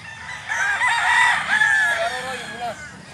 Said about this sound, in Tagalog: Mao ni mga manok ni Palomar.